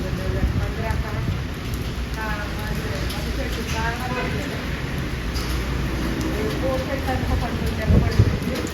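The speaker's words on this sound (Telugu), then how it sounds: "వానరాలు పడుతున్నాయండి" Steady heavy rain with hail pelts down in strong wind during a cyclone storm in Andhra Pradesh, a dense continuous patter with people talking over it.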